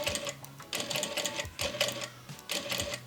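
A home sewing machine stitches satin for a bonnet in quick motor-driven bursts, running in three or four short stretches with brief pauses between them, close and steady with no talking.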